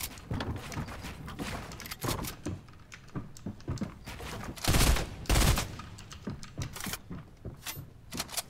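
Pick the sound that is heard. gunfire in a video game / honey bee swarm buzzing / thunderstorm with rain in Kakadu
gunfire in a video game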